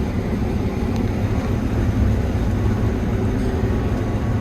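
A combine harvester cutting beans while its bedding chopper is broken makes a loud, steady, low mechanical rumble close by, continuous and unbroken, with no voices.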